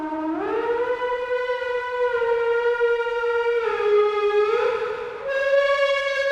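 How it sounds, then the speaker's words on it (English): A thick, buzzy synth lead pushed through overdrive, distortion, fuzz and saturation in Ableton Live, sustained and gliding between pitches like a siren, loud and continuous with no voices. "This is overdrive, distortion, and fuzz. And then some saturation at the end."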